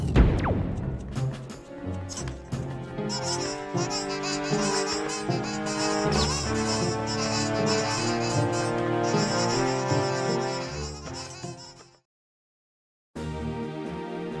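Shrill, buzzing electronic Miniblin enemy noises from a Zelda game chatter and squeal in a dense, busy layer for about twelve seconds, then cut out briefly before resuming.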